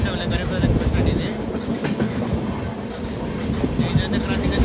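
A Garib Rath Express running from Secunderabad Junction toward Visakhapatnam Junction rumbles past nearby, a steady loud low roar of wagons with faint wheel clatter throughout.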